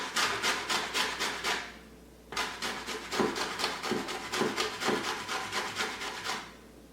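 Lemon rind is rasped against a grater in a home kitchen, giving a long run of quick, rhythmic scraping strokes, then a short pause and another steady burst of close, loud grating.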